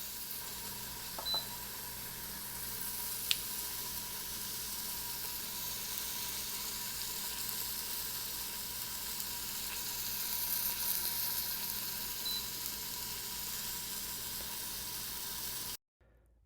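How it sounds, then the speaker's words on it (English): Pork sears in a hot Instant Pot, a constant crackling hiss with a couple of faint beeps, before cutting off abruptly at the end. "So I'm listening at the sizzle and it's not as much sizzling as I'd want."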